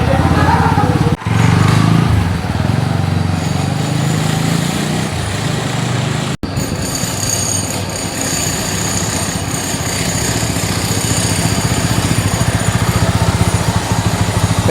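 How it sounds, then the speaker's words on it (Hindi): A TVS Apache RTR 200 4V motorcycle engine, just serviced after a tappet noise fix, runs in a continuous, loud, buzzing drone on a short test ride, with wind rush throughout. "छोटा सा टेस्ट राइड लेके आएंगे, देखेंगे कुछ इश्यूज़ वगैरह है क्या"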